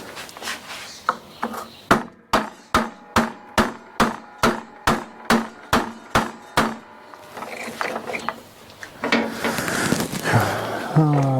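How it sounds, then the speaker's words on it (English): A brass hammer taps an Exmark 21-inch mower grinding wheel back onto its shaft: about a dozen sharp, evenly spaced metallic knocks, close and loud, followed by scraping and handling noise. "I'll take a brass hammer and put that back on there a little bit."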